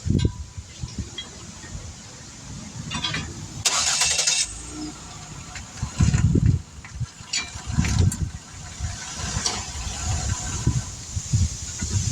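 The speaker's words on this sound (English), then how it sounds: "You want to get in the vehicle, start it" A 2011 Ford Fusion car engine cranks and catches, then settles into a low, steady idle rumble close by, with a few brief mechanical thumps and no talking.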